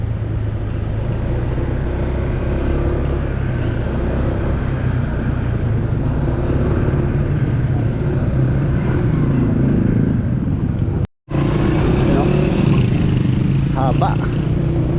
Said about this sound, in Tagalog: Napaka-traffic po rito.